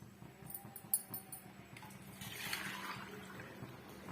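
Water poured into a pan of chickpea flour gravy in a home kitchen, a quiet liquid splash and trickle building into a soft continuous pour, with light clinks early on.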